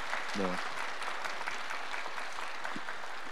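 A church congregation claps for graduates of a training course, soft, distant applause holding at an even level, with a brief voice near the start.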